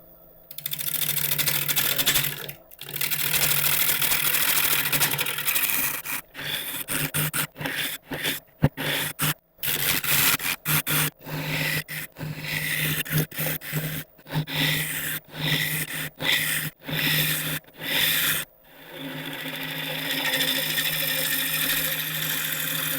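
A lathe spins mulberry wood while a tool removes material, giving a steady droning hum broken by many rapid cuts and scraping bursts with brief pauses, close and moderately loud.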